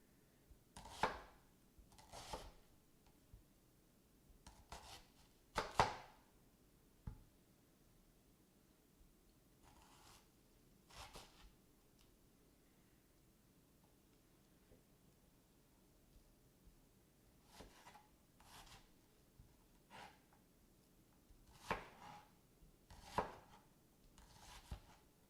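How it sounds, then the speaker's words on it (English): Onions being chopped with a knife on a cutting board, quiet close taps in irregular clusters of quick strokes separated by pauses. "I'm not a big fan of cutting up this many onions."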